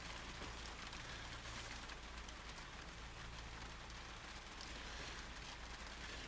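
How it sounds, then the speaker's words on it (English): Steady rain falling in a garden with chickens, a soft even hiss of drops on surfaces that continues unbroken at low level throughout. "Can you guys hear the rain?"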